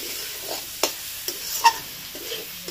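Spiced fried rice being mixed in a hot pan, a soft background sizzle broken by a few sharp clicks and scrapes of the spatula, close and fairly quiet.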